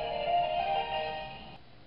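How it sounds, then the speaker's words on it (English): A phone rings with an incoming call during a lecture on ancient mystery religions, a steady electronic ringtone tone holding for over a second and a half before cutting off, fairly faint in a quiet room. "Sorry, I had a phone call."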